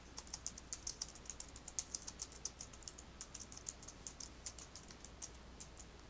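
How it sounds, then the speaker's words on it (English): Faint, quick typing on a computer keyboard enters a short message, a light run of small clicks at a steady pace over quiet background hiss. "Let's get rid of poster yourself and type in"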